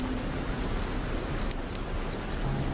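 Heavy rain pouring steadily at night, a dense unbroken hiss of falling water with no pauses, loud and alone.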